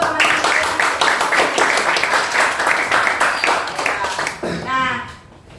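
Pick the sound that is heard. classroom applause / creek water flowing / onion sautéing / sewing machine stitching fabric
classroom applause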